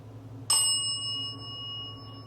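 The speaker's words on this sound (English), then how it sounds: "This bell is on like low sensitivity" A ghost-hunting bell device set to low sensitivity gives a single bright metallic ding in a haunted hotel, ringing on with a clear sustained tone that slowly fades over a low steady hum.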